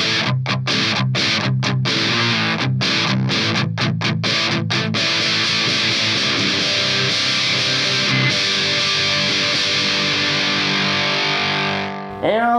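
An electric guitar plays through a Digitech DF-7 Distortion Factory pedal set for classic rock distortion, first in loud, choppy chord stabs and then in a long sustained chord that cuts off at the end.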